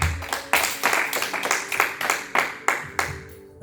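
A church congregation bursts into applause at the acclamation of the word of God, a dense, bright clapping that swells in repeated waves throughout, with no talk over it.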